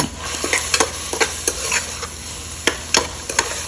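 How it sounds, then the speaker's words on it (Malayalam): Jeerakasala rice fries in ghee inside a pressure cooker under a soft continuous sizzle, while a spoon scrapes and clicks against the pot in irregular close strokes. "കഴുകി വൃത്തിയാക്കിയ ജീരകശാല അരി, 2 ഗ്ലാസ് അരിയാണ്. അത് നന്നായി ഒന്ന് വറുത്തെടുക്കുന്നു."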